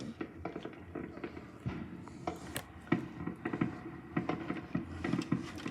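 Fireworks crackle and pop outdoors in scattered, irregular bursts, some sharp reports standing out above a steady background rumble, with a voice faintly present at times.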